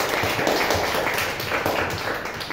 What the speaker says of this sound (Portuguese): Receba o nosso pastor com as palmas do Senhor.